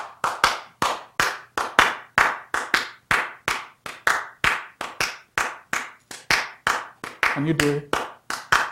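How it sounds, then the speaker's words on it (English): Audience claps an African bell rhythm pattern together, sharp regular claps in a repeating uneven rhythm, fairly close, with a brief spoken question near the end. "I hope you're getting your clap pattern ready. But there was a bell pattern that did something like this."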